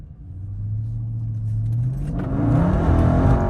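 Chrysler 392 engine revving, a deep rumbling roar that climbs steadily in pitch and grows louder over a few seconds, close by with no talking.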